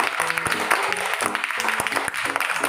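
A class of children claps for a classmate in a maths lesson, brisk scattered claps mixed with young voices chattering and calling out around them.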